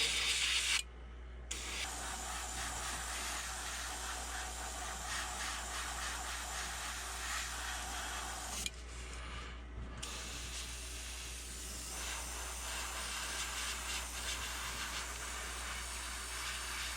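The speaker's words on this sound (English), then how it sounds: "I've cleaned out the airbrush, and I'm just gonna put a real light coat of sepia" Airbrush spraying a light coat of sepia paint onto a fishing lure, a Bucca Bait Bull Gill painted in a bluegill pattern: steady close hiss running throughout, cut by two brief pauses, over a constant low hum.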